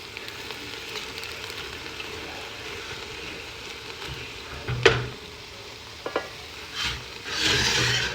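Leeks and celery cook in a pot for asparagus soup, giving a steady soft sizzle with occasional stirring scrapes and a few louder clunks and hisses near the end.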